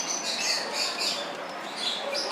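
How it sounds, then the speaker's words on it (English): Lovebirds at a zoo rainforest exhibit give a busy stream of high chirps and squeaky calls, several birds overlapping continuously at close range. "Oh, these lovebirds."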